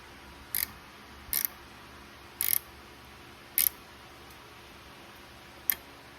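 A threaded hinge bolt on an old Dodge Ramcharger door is tightened down with a tool, making five brief, sharp metallic clicks spaced irregularly over a quiet background, close and alone.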